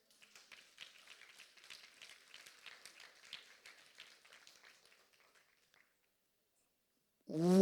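Scattered applause from a crowd, soft and somewhat distant, fades out over several seconds, then a voice begins loudly at the end.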